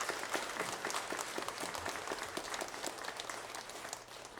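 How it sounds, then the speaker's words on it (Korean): A church congregation applauds after a hymn performance. Dense, even clapping from a big crowd fills the space at a steady level and begins to thin near the end. "다시 한번 큰 박수로 한번 격려하겠습니다"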